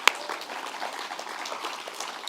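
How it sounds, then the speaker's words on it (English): Quiet, distant clapping from a crowd at a launch celebration continues steadily for a couple of seconds after one sharp clap. "Big clap for all of our HIAS friends,"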